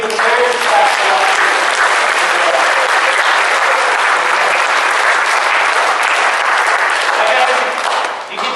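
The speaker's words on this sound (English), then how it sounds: "The new kids can give the parents a clap for that." Loud, dense clapping fills a church gathering as the congregation applauds the kids and parents, sustained for several seconds before tapering off at the end.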